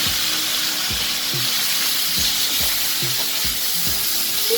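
Chopped French beans sizzle in a hot pan while a spoon stirs them, giving a steady close hiss with regular scraping strokes about every half second.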